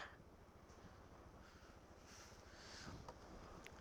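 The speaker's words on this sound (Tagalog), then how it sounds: "Kaya lang ang lakas ng hangin." Strong wind buffets the microphone in a low, rumbling roar with gusty surges at a scenic viewpoint in San Nicolas, Pangasinan, constant and fairly loud, no voices present.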